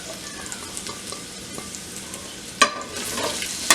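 Chopped onions, three of them, fry in well-heated oil for kofta, giving a steady soft sizzle, with a couple of sharp utensil clinks near the end and no voices.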